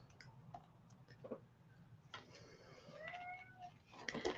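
A house cat meows a few times indoors, short faint calls amid light clicks and background room noise, with no talk over them.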